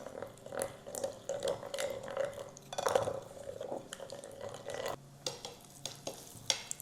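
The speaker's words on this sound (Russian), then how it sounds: "Перемешиваем." Veal ribs are stirred in a marinade with fresh rosemary, giving close, wet squelching and sloshing sounds in irregular bursts, with a few sharper clicks and no talking.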